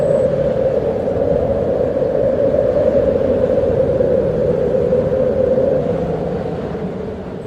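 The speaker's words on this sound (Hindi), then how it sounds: "स्पीति के हर कोने में साए साए करती हवा" Steady wind howls across the high, open Spiti valley, a loud, continuous whooshing roar that holds throughout and eases slightly toward the end.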